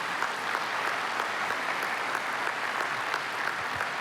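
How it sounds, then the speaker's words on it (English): Sustained audience applause at an education symposium, a dense, even wash of clapping from a crowd lasting throughout. "please join me to give him a round of applause"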